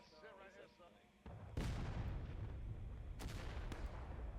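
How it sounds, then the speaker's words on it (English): Confederate artillery booms in a Civil War battle game, with heavy cannon fire rumbling continuously after a sudden loud onset and further sharp blasts layered on top, following a brief stretch of talk. "So there's Confederate artillery."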